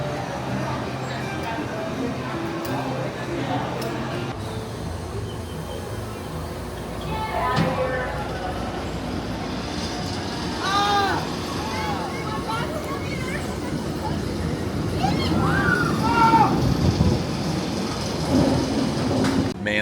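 The Wildfire roller coaster at Silver Dollar City runs with a steady rumbling, clattering ride noise throughout, rising slightly toward the end, while riders' voices and shouts come through over the track roar.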